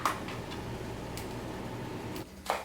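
Knife chopping vegetables for pancit on a cutting board: a few sparse, sharp knocks spaced well apart over a steady background hum, fairly close and clear, with no talking.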